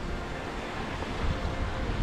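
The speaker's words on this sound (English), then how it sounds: "I can hear the sound of rumbling of the water" Rumbling sea water breaking along the rocky coast at Tintagel, Cornwall, heard as a steady, dense roar of surf with no clear separate waves, loud and close, with some wind buffeting and no voices.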